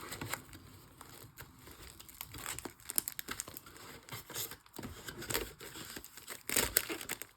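Wrappers of 2008 Bowman Chrome baseball card packs crinkling and tearing open, with close, quiet rustling and a few louder rips scattered throughout.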